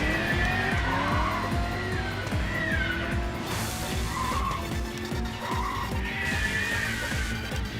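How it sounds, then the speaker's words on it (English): A race car drifting in the Cruis'n Blast video game, tires squealing in long repeated skids over a steady roaring engine, loud and continuous with no talk. "A little bit of drifting, see if we can build up our speed boost"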